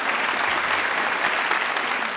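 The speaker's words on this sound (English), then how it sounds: "Shall we start? Yeah, with a good round of applause." An audience at a spelling bee final applauds steadily throughout, dense clapping filling the whole short stretch at an even level.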